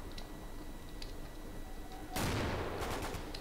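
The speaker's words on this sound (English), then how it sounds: "Oh, that's mortar or something" Mortar fire in the WWII shooter Darkest Hour: after a few quiet seconds of faint ticking, a single muffled blast bursts in and rumbles off, distant and fairly soft.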